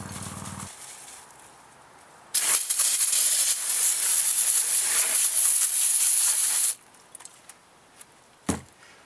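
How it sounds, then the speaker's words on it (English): Brake cleaner sprays onto axle parts in a loud continuous hissing burst of several seconds, preceded and followed by quieter handling clicks and knocks close by. "it's time to blast everything really clean with our brake cleaner"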